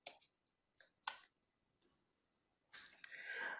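Keystrokes on a computer keyboard as networking commands are entered: a few isolated soft clicks early, a sharper key press near the middle, then a louder burst of rustling, clattering key activity toward the end, close and otherwise quiet.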